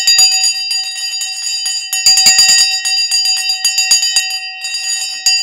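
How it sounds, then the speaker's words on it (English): A bell rings over and over in a studio, its bright, sharp strikes coming in quick bursts with a sustained metallic ring lingering between them. "Let's ring the bell."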